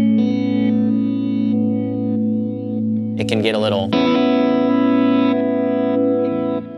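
Electric guitar chords ring through reverse delays with no reverb, sustained distorted tones with a choppy, swelling repeat texture; someone talks briefly over it midway before the guitar returns.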